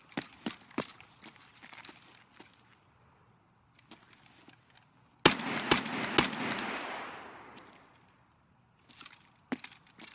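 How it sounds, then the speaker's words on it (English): Gunfire in the video game Escape from Tarkov during a Customs raid, with scattered distant shots, then a sudden loud close burst with echoing tail, followed by a few more faint shots. "Now the shooting starts."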